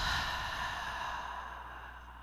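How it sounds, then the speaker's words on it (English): A slow, audible exhale through the mouth after a deep breath in through the nose during a calm breathing exercise, one long steady breath gradually fading, close and soft with no talking. "In through the nose. Audible exhale."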